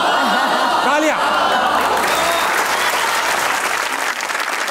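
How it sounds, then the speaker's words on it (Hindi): Audience applause on a comedy stage show, a steady wash of clapping with a few whoops and chuckles, filling the room right after a performer's quip, with voices briefly heard over the start. "तालियां।"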